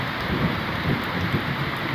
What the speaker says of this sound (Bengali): সেই ধুমধার একটা বৃষ্টি।